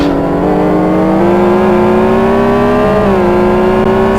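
Race car engines in a GT1 racing video game, loud and close, rev steadily with a sustained whine that climbs in pitch, dips briefly near the end, then holds.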